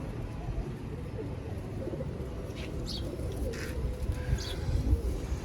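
Pigeons of a championship bloodline, kept by a fancier, coo softly in a few short calls over a dense low rumble of background noise, with talk faintly audible underneath.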